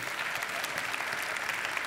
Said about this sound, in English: There's a couple, go ahead and clap.